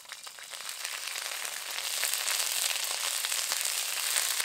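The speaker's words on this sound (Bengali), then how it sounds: "আদা বাটাটা দেওয়ার পর সামান্য ভেজে নিয়েছি" Ginger paste sizzles steadily in hot mustard oil with bay leaf, dried red chilli and whole cumin, a dense, even crackling hiss that swells slightly and holds close up with no voices.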